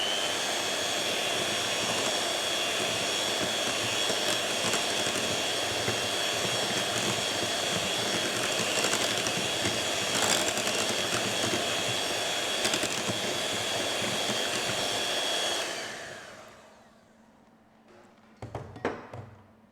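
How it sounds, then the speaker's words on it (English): An electric beater whipping pancake batter, a loud, steady high-pitched motor whine that runs unbroken for about fifteen seconds before cutting off, followed by a few light clatters and knocks. "Beat the pancake batter very well using either an electric beater, a hand beater,"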